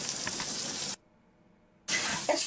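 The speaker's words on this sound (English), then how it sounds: "You can always tell the potatoes are boiling because it just flows right over the top and right onto your burner" Boiling potato water spills over the pot's rim onto a hot stovetop burner, a loud hissing sizzle that cuts out abruptly for about a second and then returns at full strength.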